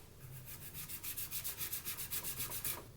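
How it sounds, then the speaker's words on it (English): Rhythmic back-and-forth scratching of sandpaper on a resin eye, about a dozen quick strokes, close and quiet with no speech. "So let's start sanding these."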